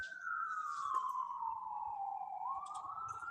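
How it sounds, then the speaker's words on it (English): A police car siren passes by outside a window, one long wailing tone sliding slowly down then rising again, fairly distant and steady, with no talking. "There's a police siren going by my window."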